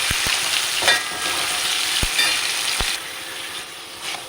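Onions and other ingredients sautéing with salt in a hot pan for pepper chicken roast, a loud continuous sizzle close by, broken by a few sharp clacks of a spoon against the pan.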